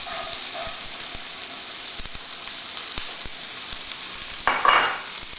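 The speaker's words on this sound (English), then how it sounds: "Here I have a very hot pan. I'm going to put in some olive oil and immediately put in some onions" Onions sizzle in olive oil in a very hot pan for a coconut kabocha squash soup, a bright continuous hiss with scattered small ticks and a brief louder flare near the end, heard alone.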